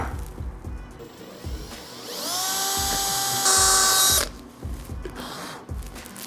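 A power drill whines up to speed and bores a hole in metal in a motorcycle workshop during a Yamaha V-Star 1300 bobber rebuild, loud and close for about two seconds, then stops amid background clatter.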